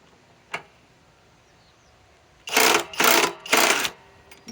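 A Master Force Boost hydraulic impact driver on a 2.5 battery loosens a fastener in three loud, close whirring bursts, each about half a second long, after a single faint click and quiet.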